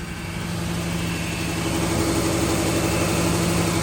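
A Ford Taurus started after three years of neglect, smoking heavily, its engine running at a steady even idle throughout, close and continuous with no voices.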